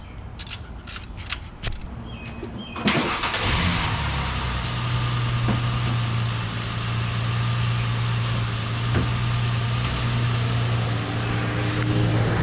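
Ford Mustang V6 engine idling steadily after a spark plug and plug wire replacement, a low continuous hum that starts after a few seconds of clicks and handling noise and holds at a constant level with no talking.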